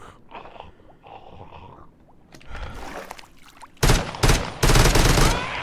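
Several loud, sharp gunshots from a Minecraft Deceasedcraft modpack arsenal crack in quick bursts near the end, preceded by quieter splashing and muffled underwater-like noise, with a voice faintly present early on.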